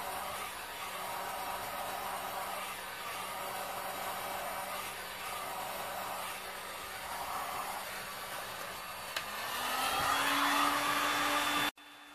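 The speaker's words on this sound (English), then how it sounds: "continuing with the manipulation with the heat gun, pushing from the side" A heat gun blows steadily on a red, black and gold resin pour as a constant close whooshing hiss, its tone rising near the end before it cuts off abruptly.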